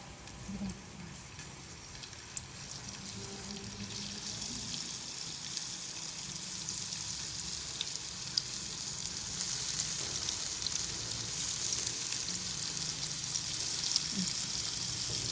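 Satay skewers fry in hot oil in a Teflon pan, giving a steady, hissing sizzle that grows gradually louder and denser. It is heard alone at moderate level, with occasional faint pops.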